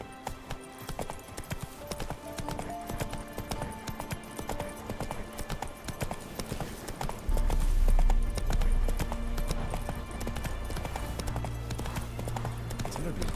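Hooves of the horse Roach in The Witcher 3 game, a fast rhythmic clip-clop gallop running throughout, with a low rumble and some game voice and music sounds mixed beneath.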